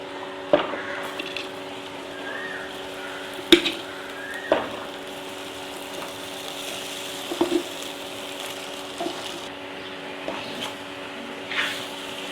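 Cooked seeraga samba rice is tipped into a pan and stirred, giving scattered sharp scrapes and knocks every second or so over a steady low sizzle.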